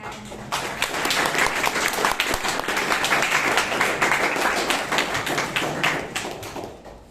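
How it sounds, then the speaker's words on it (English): Steady applause from a crowd at a Toastmasters meeting in Bangalore, a dense wash of hand clapping that starts abruptly and continues for several seconds before tapering off. "please give them a round of applause."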